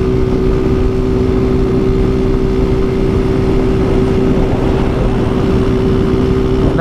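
A small motorcycle engine strains climbing a hill, a loud steady droning hum with a constant low pitch and no breaks, close to the listener.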